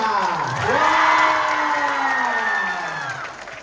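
An audience at a Cantonese-language event breaks into loud cheering and applause, a sustained crowd roar with whoops and shouting that swells and then slowly fades.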